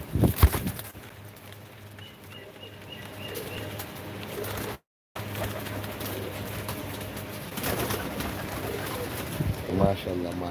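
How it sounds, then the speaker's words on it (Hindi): Royal Teddy pigeons cooing softly in a low, repeated hum, with someone talking loudly over the birds throughout and a short dropout midway. "क्योंकि आपको नायब नायब परिंदे दिखा रहा हूँ मैं। देखो इमरान भाई के रॉयल टेडी"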